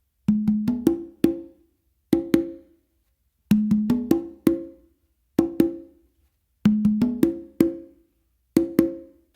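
Funk melody tumbao pattern played by hand on congas, crisp open tones and slaps in repeating bursts of quick strokes separated by short pauses, close and clear with no voices.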